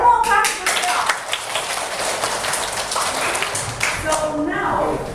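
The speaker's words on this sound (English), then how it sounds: "One more clap for yourself." Students in an English classroom clap together in a dense, crackling burst of applause lasting several seconds, fairly close and steady, with voices mixed in beneath the patter.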